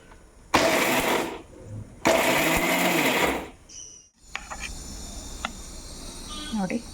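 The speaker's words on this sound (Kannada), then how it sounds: "ಅದೇ ಮಿಕ್ಸಿಯಲ್ಲಿ ಬಾದಾಮಿ ಮತ್ತು ಗೋಡಂಬಿ ಹಾಕಿ ಪೌಡ್ರ್ ಮಾಡ್ತಾಯಿದ್ದೀನಿ" A kitchen mixer grinder powders roasted almonds and cashews in two loud, whirring bursts separated by a short pause, followed by quieter clattering and a voice in the room.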